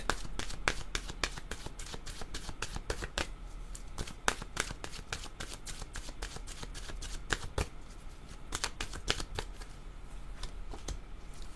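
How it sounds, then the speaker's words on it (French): Oracle cards are shuffled by hand in a steady run of quick, crisp riffling flicks and slaps, close and fairly quiet, with no talking. "Je vais demander maintenant une carte de mon oracle de l'âme intuitive."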